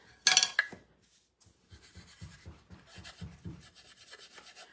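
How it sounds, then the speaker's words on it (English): Wax being rubbed around the edges of a handmade wooden pull-toy duck: a brief, bright scrape near the start, then a run of soft, steady rubbing strokes close by. "let's give this a little wax around the edges"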